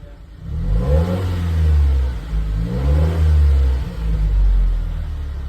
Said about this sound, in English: You want to give it a little rev for before and after?